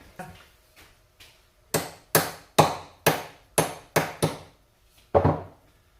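A hammer strikes in a series of sharp, ringing blows while repairing a mower's grass discharge chute mounting bracket, a few light taps first, then about eight firm hits in a steady rhythm, close by.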